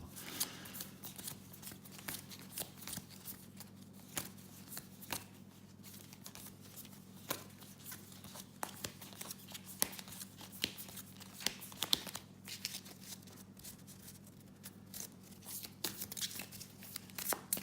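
Cards from the Arkham Horror living card game being shuffled, a quick run of crisp riffling and flicking bursts repeating close by throughout, with no talking.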